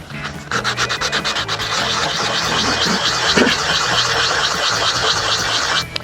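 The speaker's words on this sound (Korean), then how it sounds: "나무 면이 뽀얗게 되어야 사포가 전체로 된 겁니다." A hand-carved wooden ramen spoon being sanded by hand with coarse first-pass sandpaper, giving continuous close, rhythmic scratchy rubbing strokes that run almost the whole time with no talking.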